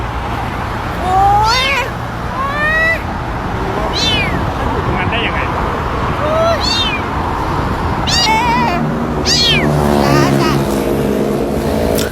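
A kitten on a busy road gives repeated high, rising meows, several close together, over a steady rumble of passing traffic and engines.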